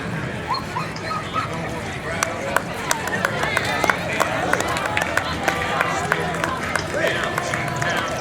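Huskies from a husky club yip and bark in quick, scattered bursts while marching in a Memorial Day town parade, amid crowd noise and nearby talk.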